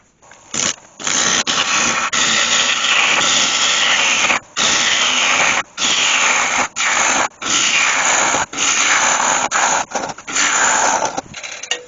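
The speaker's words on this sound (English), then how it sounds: "I'll put a spade bit down in there." A spade bit drills into a live-edge cherry bowl turned from a tree branch, a loud, steady grinding whir running in several bursts with brief pauses between them.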